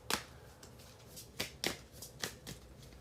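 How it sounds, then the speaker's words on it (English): Tarot cards are shuffled by hand, with a series of crisp riffling bursts at uneven intervals, close and moderately quiet, with no talking. "I am going to keep shuffling."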